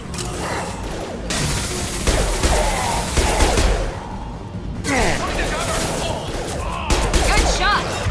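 Sci-fi gunfire from a Mass Effect 2 battle crackles in dense bursts throughout, with mechanical clatter and impacts mixed in and a voice talking over the fighting.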